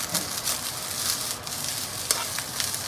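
Fried rice sizzling in a pan at home, a continuous close crackle and hiss of frying with occasional sharper pops and stirring scrapes.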